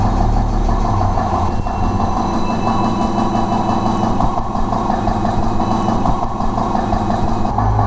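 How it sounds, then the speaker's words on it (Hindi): Electric motor running on a test bench, giving a loud, continuous hum and rumble with steady tonal layers and only slight shifts in speed, no voices over it. "मोटर की स्पीड भी कम ज़्यादा हो रही है और मोटर की आवाज़ भी बदल रही है"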